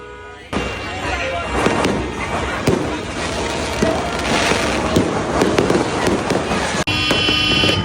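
New Year fireworks and firecrackers explode near a home parking area, a dense, loud barrage of cracks and booms that runs almost continuously, with scattered sharp pops on top and voices mixed in.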